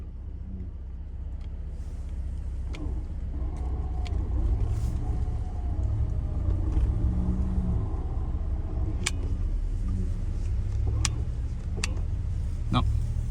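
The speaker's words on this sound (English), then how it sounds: "try to give it some gas now to come forward" A truck stuck in snow, its engine rumbling steadily with a low drone that swells slightly as it is given gas, accompanied by faint voices and occasional clicks.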